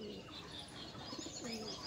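Pigeons coo steadily at a loft where birds are kept for sale, a soft continuous murmur of calls over a busy, noisy background for about two seconds.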